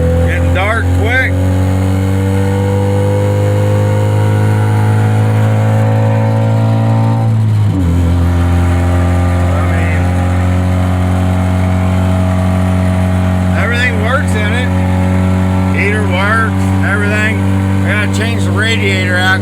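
A 2001 Hyundai Tiburon coupe's engine drones steadily while driving, a loud, close, sustained hum whose pitch drops once as gears change into fifth, with someone talking over it at times.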